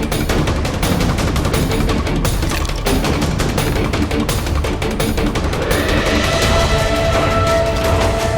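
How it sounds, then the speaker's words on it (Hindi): Rapid gunfire from a shooter at a busy beachfront snack spot, a dense, continuous burst of loud shots like a fusillade, with a sustained ringing tone emerging toward the end. "चौपाटी पे एक शूटर ने किसी पे गोलियां चलाई है"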